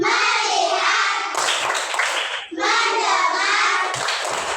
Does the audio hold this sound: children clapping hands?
yes